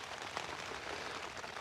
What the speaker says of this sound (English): Well, that's 8 o'clock and it's still raining.